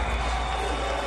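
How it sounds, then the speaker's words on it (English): A large Saudi crowd at a boxing event cheers for Francis Ngannou, a brief, dense wash of distant roaring voices. "Love from the Saudi crowd for Francis Ngannou."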